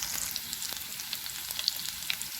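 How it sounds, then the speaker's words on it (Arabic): Potatoes sautéing in ghee in a pan give a steady, close sizzle and fry crackle with scattered bright pops, alone with no talk. "هنا كده تشويحه في السمنه"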